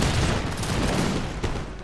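Dense musket volley fire from line infantry in Empire: Total War crackles continuously, a loud sustained rattle of many shots blending into one roar with a few sharper cracks.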